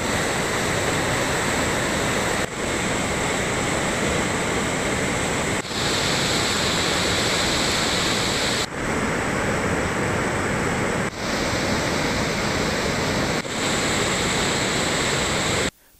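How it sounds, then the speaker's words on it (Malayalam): Rivers swollen and overflowing their banks after heavy monsoon rain in a hilly region of Kerala, a loud, steady roar of rushing floodwater that fills the whole stretch without pause, with brief dips every few seconds and no voices. "അതിശക്തമായ മഴ തുടർന്ന സാഹചര്യത്തിൽ പുഴകളും കരകവിയാൻ തുടങ്ങിയിട്ടുണ്ട്."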